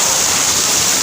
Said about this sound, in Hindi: क्या धुआंधार बारिश हो रही है